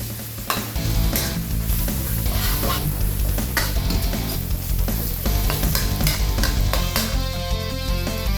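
Prepared garlic hits a hot pan for stir-fried chili-salt tubtim fish, sizzling loudly and continuously with stirring and clinks of the utensil against the pan, no voices.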